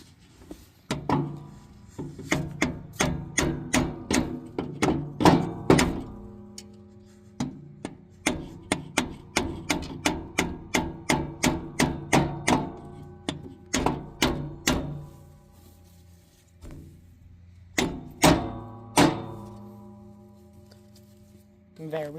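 Repeated hammer blows on a stuck lawn mower part, sharp metallic strikes landing in quick rhythmic bursts with short pauses between runs, loud and close.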